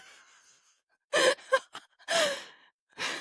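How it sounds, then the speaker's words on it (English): A woman gives a sudden, loud gasp for air after faint breathing, followed by several more heavy, ragged breaths and sighs, close and unaccompanied. "she suddenly awakes with a giant gasp for air"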